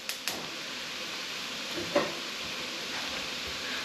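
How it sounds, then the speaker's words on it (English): Ground meat sautéing in a pan for Bolognese sauce, a steady quiet sizzle with faint crackles and a couple of light pan clicks, heard alone without talk. "while this is sauteing up over here"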